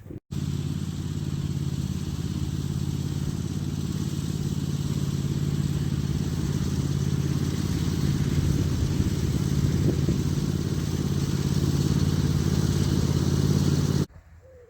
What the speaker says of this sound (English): well done, little red tractor